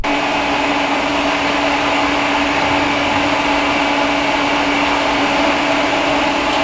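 TIG welder laying lines on aluminum, giving a steady, loud buzzing hiss with a constant tone that holds unbroken for several seconds, with no talk.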